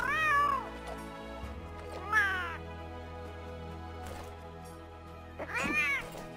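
Cat meows in the Monster Hunter World video game, three distinct meows spaced out over a quiet game background, the last one longest and loudest.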